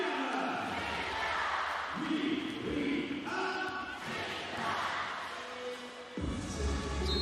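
Italian fans cheer at a Champions League volleyball match between Milano and Lodz: a crowd chants in rhythmic waves with loud sustained tones. A commentator speaks over the noise throughout.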